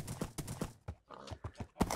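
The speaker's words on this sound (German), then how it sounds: "Okay, hier sind Pferde." Horses clip-clopping in Minecraft, a quick run of distinct hoof knocks at close range, evenly paced with brief pauses, with no talk over them.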